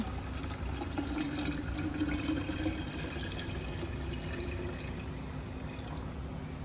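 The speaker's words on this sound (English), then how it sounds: "top the rest of this jar off with cold water" Cold water poured from a tap into a jar of cold brew coffee concentrate, a steady close-up splashing fill with continuous running-water texture throughout, no talking.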